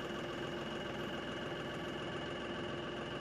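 A tractor engine runs steadily in 4-wheel drive while pushing a front-mounted grade blade through cattails, a constant close mechanical drone with a faint knocking texture and no pauses.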